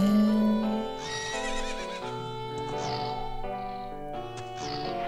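Epona the horse from Zelda: Ocarina of Time gives a loud, clear whinny with harmonic tremble, followed by a few softer neighs and snorts over faint game music, no talking.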